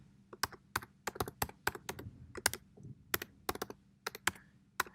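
Password being typed on a computer keyboard, a close run of crisp, irregular key clicks in quick bursts with short pauses between them, no voices.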